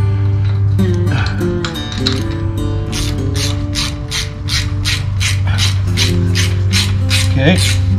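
Bolts on chain link double swing gate hardware are tightened with a ratcheting tool, giving rapid repeated clicking bursts over a steady low hum, close and fairly loud.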